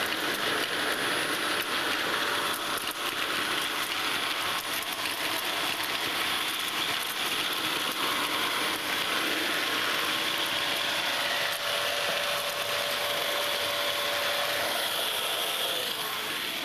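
A Dyson DC38 bagless multi-floor ball cylinder vacuum cleaner runs with no floor tool fitted, a loud, steady hiss of suction continuing throughout as it picks up big bits of debris, with faint rattling.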